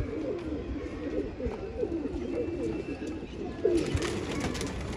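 Desi domestic pigeons of a Gurdaspur border breed coo in soft repeated rolling calls, close by, over a steady murmur of background noise, with a brief brighter burst near the end.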